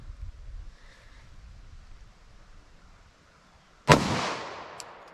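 A single sharp .45 ACP pistol shot, a 230 grain load fired in a ballistic test, cracks out loud and sudden after a quiet stretch, then decays into a short echoing tail outdoors.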